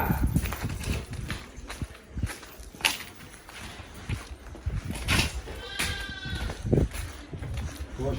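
Lambs bleat several times amid farmyard noise, with hoof clatter and people talking nearby.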